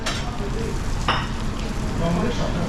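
Horse meat sizzling in a pan with carrots and onions, a steady close frying hiss with a brief stirring scrape partway through and faint background voices.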